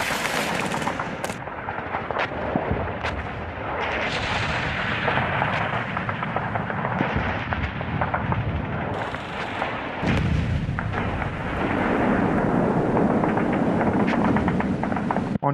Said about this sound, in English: Soviet artillery began shelling Berlin